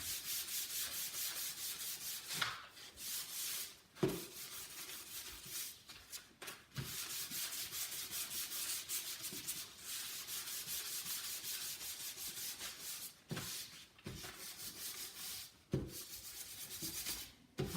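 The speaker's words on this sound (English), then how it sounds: "And then take my little buffing brush." A small buffing brush rubs across a leather journal cover in quick repeated strokes, a soft close scratchy brushing with brief pauses between passes, fairly quiet and with no talk.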